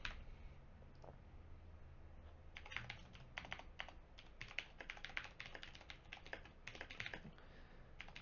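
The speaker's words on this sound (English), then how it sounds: "I'm typing up the thread, guys." Quiet clicking keystrokes on a computer keyboard, sparse at first and then coming in fast irregular bursts, close and alone.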